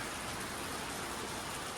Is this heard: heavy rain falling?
yes